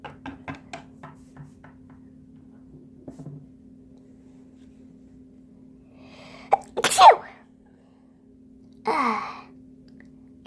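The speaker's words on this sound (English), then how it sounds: "Got some sneezes." A few sharp sneezes burst out in a quiet indoor room, clustered near the middle and followed by another a moment later, after some faint knocks and a low steady hum.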